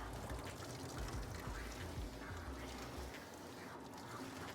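Water being sprayed onto a dog's body during grooming, a continuous low splashing and gurgling rush, fairly quiet and steady for a few seconds.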